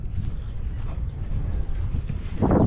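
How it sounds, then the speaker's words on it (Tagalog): Wind blowing outdoors, a steady low rumble buffeting the microphone with gusts that swell louder toward the end. "Ang sarap ng hangin."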